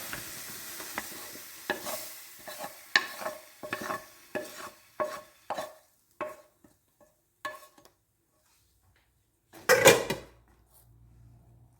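Courgettes are stirred in a frying pan, making a run of regular scraping and stirring strokes over a faint sizzle, then a louder clatter near the end before a low hum.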